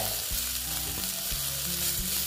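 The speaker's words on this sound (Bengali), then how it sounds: "দেখো বন্ধুরা, দেখো কি সুন্দর ভাজা হয়েছে" Bitter gourd slices frying in a hot pan give a dense, continuous sizzle close by, with occasional stirring knocks and no voices.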